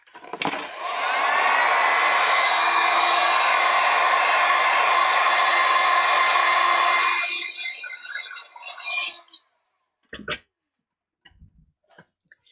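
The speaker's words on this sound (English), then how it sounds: "I'll give that a blast just to dry that off." A handheld blower or heat-style dryer runs steadily for several seconds to dry paint on fabric after a brush is rinsed, a loud continuous whoosh that cuts off and leaves a few faint clicks and taps.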